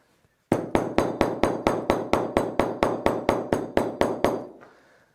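Steady, even polished-hammer taps on leather stitching of a gusseted bag pocket, about fifteen sharp strikes in a regular rhythm, close and fairly loud, then a short fade into quiet.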